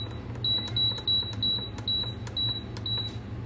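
Button presses on an electric pressure cooker's control panel set for cooking meat, a run of about eight short electronic beeps at an uneven pace over low background hum.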